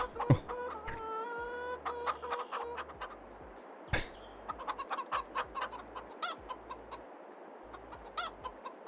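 Chickens in Farming Simulator 22 cluck repeatedly in short bursts, with a drawn-out squawk near the start and scattered taps and clicks, no talking.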